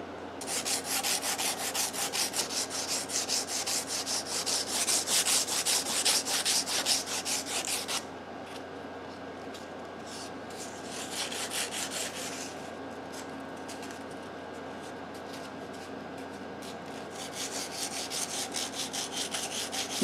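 A wavy wooden prop dagger blade is sanded by hand, producing a soft, rhythmic scratching of quick back-and-forth strokes that pauses midway and then resumes, fairly quiet and close.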